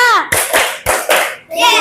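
A group of people clap twice in quick unison, sharp and close, with a voice heard briefly before and after.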